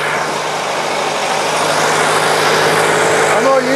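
A Ford Model T engine runs on a dynamometer, a loud, steady mechanical roar with a low hum underneath that rises slightly in intensity as RPM climbs toward the end.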